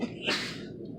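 A single sharp sneeze, close and fairly loud, bursting out in the first half of the clip before trailing into quiet room tone with no talk.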